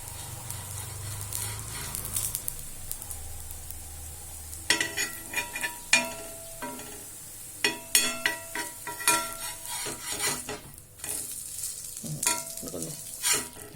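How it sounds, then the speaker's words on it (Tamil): Carrot, chili and moong dal cook in a pan while a utensil stirs and scrapes against it in irregular close clatters over a soft sizzle, with no speech. "அதுலேயே கேரட்டு, மிளகாய், இந்த பாசி பயிர் இருக்கிறதுனால கொஞ்சம் நேரம் சிம்மில் வச்சு வேக விட்டுறணும்."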